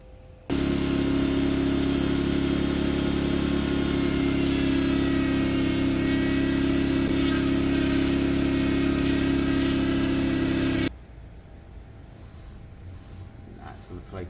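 A power tool cuts a slit into a seized part on a Yamaha YBR 125 motorcycle, giving a loud, steady, high-pitched whine for about ten seconds that stops abruptly, leaving quieter workshop noise.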